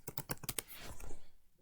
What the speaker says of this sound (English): So in this search field, we'll type videos.